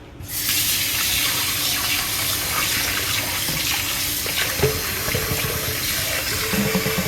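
Tap water runs steadily into a sink, splashing continuously over raw chicken being rinsed, close up with no voices.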